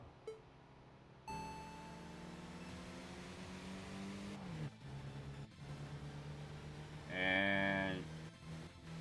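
Racing cars in the video game Tokyo Xtreme Racer rev and accelerate against a truck, their engine tones climbing in rising, sweeping pitches, with a sharp electronic beeping burst near the end over a steady synthetic engine drone.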